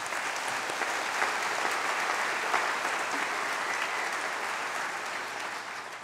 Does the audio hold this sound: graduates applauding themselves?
yes